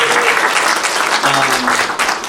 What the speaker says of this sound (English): I want to give a round of applause to Debbie for making this event happen.